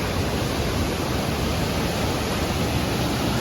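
A rushing mountain stream pours under a trail bridge near Mount Madison, a steady, loud, broadband roar of water with no breaks.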